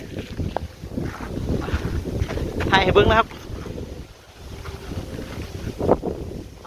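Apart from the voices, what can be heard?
strong wind while flying a paper kite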